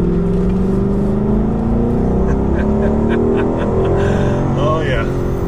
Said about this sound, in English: I like that booming V8.